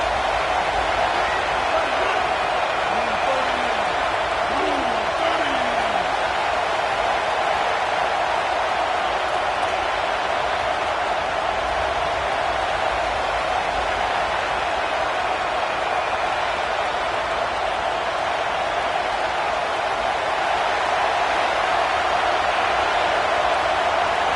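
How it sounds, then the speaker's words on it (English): Home stadium crowd in an NCAA college football game, a dense, steady roar of cheering fans filling the whole stretch, loud and unbroken, with faint voices mixed in early on. "this home crowd getting involved right from the start"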